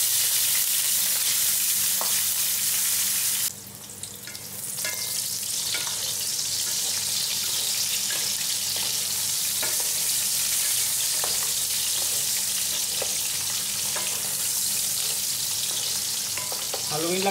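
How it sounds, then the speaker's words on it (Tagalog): Fish cake, also called fish tofu, half-frying in oil in a pan sizzles loudly and steadily close by, with scattered spatula scrapes and a brief dip in intensity early on. "i-half fry po natin ang ating fish cake or fish tofu"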